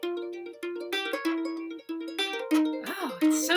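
Ukulele turnaround in G played at a quicker pace with picked chords, bright plucked notes tumbling in a lively rhythm, close up, with a strummed flourish and string slide near the end.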